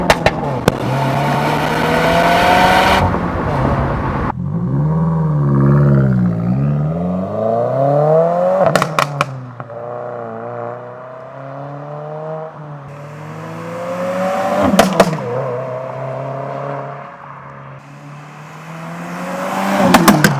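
A 2024 Subaru WRX with an aftermarket Remark axle-back exhaust roars past several times, its engine pitch rising and falling as it accelerates and recedes, with sharp exhaust pops and crackles.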